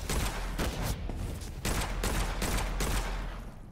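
Video game gunfire rattles in dense repeated bursts, loud and close, with brief gaps between volleys and no talk.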